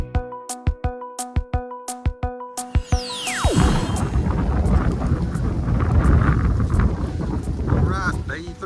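Strong wind roars and buffets the microphone on the Foothills Trail on a cold day, a steady loud rush filling the second half after a stretch of sharp clicks and tones.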